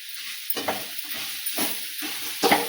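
A radish stir-fry is stirred in a pan, giving soft hissing sizzles and several scraping strokes of a utensil spaced about a second apart, close and moderately quiet, with no one talking.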